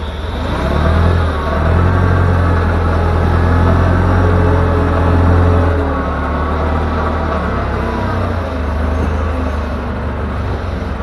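A diesel forklift drives and turns, its engine a steady loud low rumble with a slight rise and dip in revs, heard close and continuous without talk.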